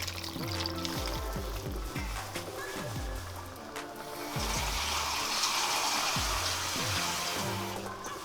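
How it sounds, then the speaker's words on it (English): A cup of water is poured into a pot of Nigerian jollof rice with a soft, steady splashing trickle, quiet beneath rhythmic background music. "So now I'm gonna add 1 cup of water."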